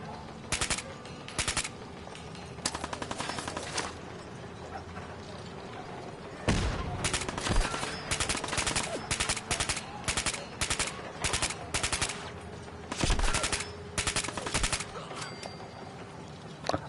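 Bursts of gunfire from Fallout 4 gameplay, repeated rapid volleys and single shots spread across the stretch, loud and close, with an occasional bigger impact and faint game ambience between.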